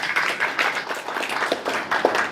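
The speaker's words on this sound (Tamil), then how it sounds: "சிறப்பு கைத்தட்டல்களுடன் வரவேற்கிறோம்" An audience claps warmly to welcome a guest at a Tamil book launch, the applause dense and continuous for a couple of seconds, filling the hall.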